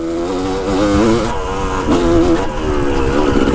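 A motorcycle fitted with a Lectron carburetor accelerating hard in third gear, a loud, close, rising engine whine with strong harmonics and brief dips, no talking.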